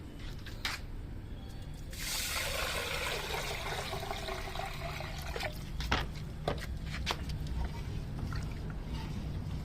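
Rice is washed by hand in a pot of water, making soft continuous sloshing and trickling with scattered small clicks and splashes, fairly quiet and close.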